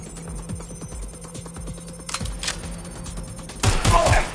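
Gunfire in a tense action scene, a scattered burst of shots and thuds mixed with shouting, rising louder and denser toward the end.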